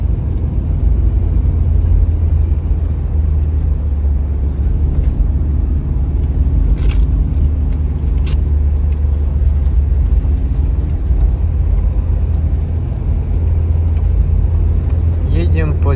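Steady low engine drone and road rumble from a UAZ Patriot heard inside as it drives along a narrowing road on a long trip north, continuous and fairly loud throughout.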